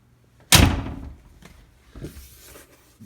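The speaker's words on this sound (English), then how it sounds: "We'll open the door up." A Fox Body Mustang car door is opened with a sharp metallic clunk of the latch, loud and close, followed by faint rustling and a softer thud as it swings.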